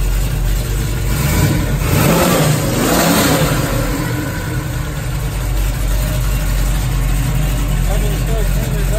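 A 1970 Chevrolet Nova SS with a 396 big-block V8 revs up, its deep engine roar surging loudly for a couple of seconds and then settling back to a smooth idle, with people talking nearby.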